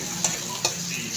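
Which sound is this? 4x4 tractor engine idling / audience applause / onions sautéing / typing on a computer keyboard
onions sautéing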